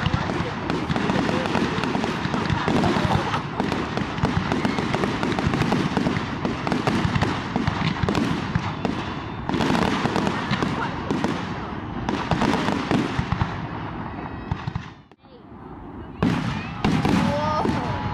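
Fireworks at a town festival crackle and bang continuously for a long stretch, a dense loud barrage with a brief lull near the end before bursting again.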